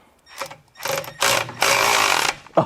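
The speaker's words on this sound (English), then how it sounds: "let's tighten these motor mount bolts that are very obviously loose." A tool tightens loose motor mount bolts on a Coda electric car, heard as several short whirring mechanical bursts of growing length and loudness, close to the microphone, with no talk.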